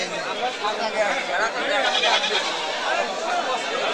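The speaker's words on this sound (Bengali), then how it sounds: "দেখেন দেশি জাতের ছাগল" At a Black Bengal goat market, goats bleat repeatedly amid a busy crowd, their cries rising over steady chatter and talk from people nearby.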